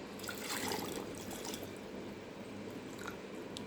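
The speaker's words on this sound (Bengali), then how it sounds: "এখন আমি পানি দিয়ে দিচ্ছি," Water is poured into yogurt to make lassi, a faint, soft liquid trickle and splash heard alone and close for a few seconds.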